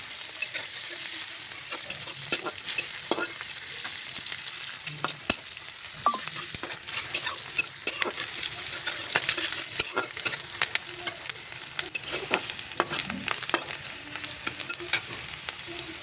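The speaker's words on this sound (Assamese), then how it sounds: "পিয়াজখিনি ধুনিয়াকৈ ৰঙা হোৱালৈকে ভাজি ল'ম" Onions stirred and fried in the same oil just used for frying fish, a steady close sizzle broken by frequent scraping stirs throughout, with no talking.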